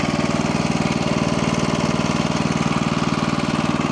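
Honda HSS1332 ATD track drive snowblower running steadily, its engine chugging in a fast, even pulsing rhythm, loud and close with no voices over it.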